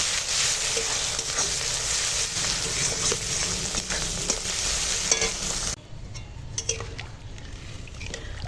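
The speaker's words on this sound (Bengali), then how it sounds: "এবার হলুদের গুঁড়া দিলাম আর লাল লঙ্কা দিলাম ভালো করে কষিয়ে নেব" Turmeric and red chilli powder sauté in a hot pan, a dense, loud sizzle with occasional stirring clinks that abruptly drops to a quieter, softer fry near the end.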